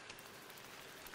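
Rain in the video game Don't Starve: Hamlet hisses as a steady, soft wash of drops with no other sounds.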